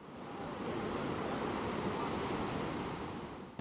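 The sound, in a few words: ocean waves breaking on a Bali beach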